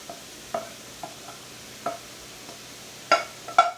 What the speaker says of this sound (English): we're going to add in our caramelized onions and mushrooms